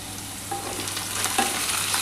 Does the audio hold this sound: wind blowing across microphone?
no